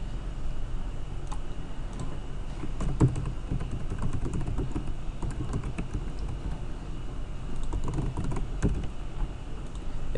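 Continuous typing on a computer keyboard, keys clicking in a fast, uneven patter at close range as a username and host are entered into FileZilla; no voices.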